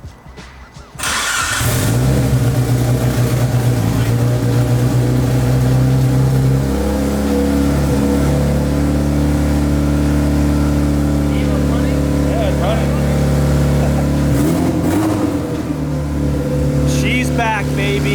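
A Mitsubishi Evo 8 engine starts after wiring repairs and settles into a loud, steady idle close by, with a couple of revs rising and falling near the end.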